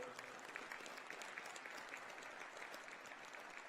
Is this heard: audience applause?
yes